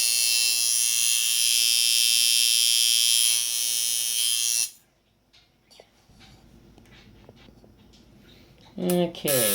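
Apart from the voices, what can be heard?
powder coated tattoo liner machine running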